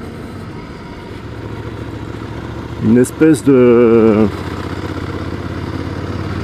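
Ducati Scrambler 800 Icon engine idling with a steady low rumble, then briefly revving up in two short bursts and a sustained rise before settling back, close, with someone speaking French over it.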